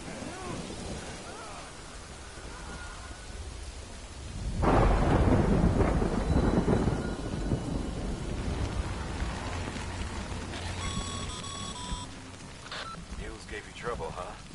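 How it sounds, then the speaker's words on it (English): Heavy rain pours steadily in the video game Death Stranding, with a deep thunder rumble swelling loudly midway and rolling on under the rain, followed by a few bright electronic tones near the end. "Good thing it was raining."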